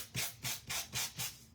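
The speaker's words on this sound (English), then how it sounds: "wouldn't it be even better if we then take our sanding block" A sanding block rubs across a paper card in five steady back-and-forth strokes, each a soft, close scratchy rasp with brief pauses between.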